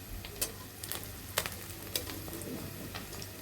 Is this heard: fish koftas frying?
yes